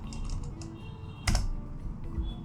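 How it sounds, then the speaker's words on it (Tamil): Typing on a computer keyboard, entering a search into Google, heard as a run of soft, close key clicks with one louder clatter near the middle. "நான் ஜஸ்ட்டு கூகுளில் வந்து பினோக்கியோ அப்படிங்கிறத டைப் பண்ணுறேன்"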